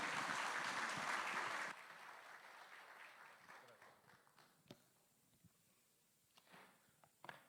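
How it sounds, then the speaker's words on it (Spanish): A church congregation gives a warm welcome to a guest preacher from Lima, a burst of clapping that stops abruptly after under two seconds, leaving a quiet room with scattered knocks and shuffling sounds. "Le damos la bienvenida con un cálido aplauso"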